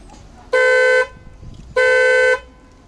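Replacement horn on a Peugeot 505 V6 sounding two loud, clear honks of about half a second each, separated by a short pause.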